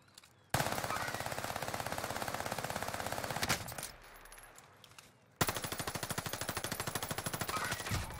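MP40 submachine gun fire in Call of Duty Warzone, with two long, loud, rapid bursts of automatic shots separated by a short quieter gap, close and alone with no talk.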